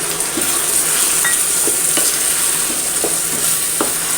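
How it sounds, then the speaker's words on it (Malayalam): Half a cup of vinegar goes into a pan of cooking beetroot and date pickle, setting off a loud, steady sizzle broken by a few sharp spoon ticks. "ഇനി നമ്മളതിലേക്ക് ഒരു അര കപ്പ് വിനീഗർ ഒഴിച്ചു കൊടുക്കുന്നുണ്ട്"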